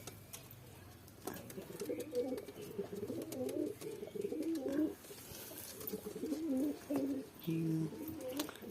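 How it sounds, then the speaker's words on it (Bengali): Pigeons inside a house coo in soft, rolling, repeated calls close by, with a few brief pauses between the phrases. "এখনো কটা পায়রা আছে ঘরে, দেখো"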